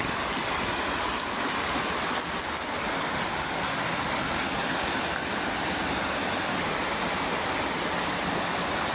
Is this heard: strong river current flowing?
yes